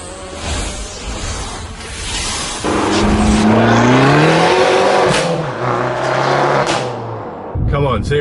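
A modified Abarth 595 Competizione, its engine revving hard in sport mode, rising and falling loudly with a raspy exhaust note over several seconds, heard close with a brief voice at the start.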